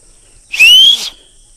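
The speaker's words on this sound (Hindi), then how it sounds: "हम एक दूसरे को सीटी से सिग्नल लेते हैं, जैसे ऐसे सीटी मारते हैं" A villager in Ghatshila, where elephants trouble the area, gives one short, loud whistle as a signal to others. It is a clear, rising tone lasting about half a second against a quiet outdoor background.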